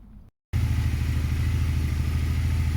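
A Triumph Bonneville motorcycle engine starts up after a short pause and settles into a steady, close, throbbing idle that runs without letup, with no talking.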